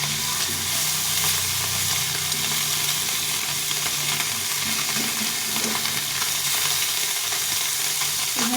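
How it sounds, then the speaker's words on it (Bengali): Small fish fry in hot oil in a pan, a loud, dense, continuous sizzling hiss filling the whole stretch with a few faint spatula bumps, close by and without speech. "মাছটা এক পাশে ভাজা হয়ে গেছে এখন উল্টে পাল্টে ভেজে নিতে হবে"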